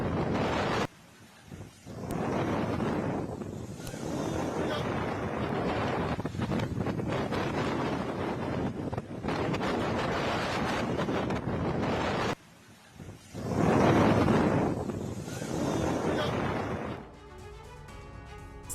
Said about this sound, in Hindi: अचानक आए तूफान ने मचाया कहर।